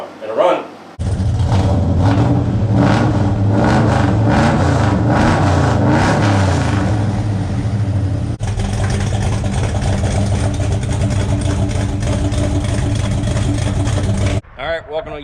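A 1972 Buick Skylark with a 427 engine fires up for the first time with a sudden, loud start, then settles into a rough, steady idle with some throttle revs. The run continues for about fourteen seconds before the engine cuts off, and people talk over it.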